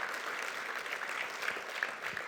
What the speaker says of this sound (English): deserves a very, very loud and warm round of applause